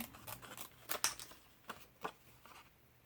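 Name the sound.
scissors cutting out a paper cupcake liner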